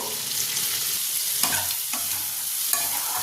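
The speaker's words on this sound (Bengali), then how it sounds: "হাই করে নিয়ে আরও 1 মিনিট নাড়াচাড়া করে" Masala prawns stirred on a high flame sizzle loudly and continuously, with a few distinct scrapes of a spatula against the pan breaking through the close, bright hiss.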